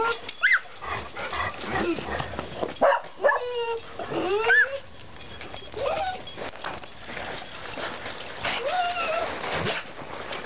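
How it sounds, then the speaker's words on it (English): A dog yelps and barks in short excited bursts at close range, interspersed with whimpering, while people speak affectionately nearby, during a Thanksgiving gathering. "Good dog."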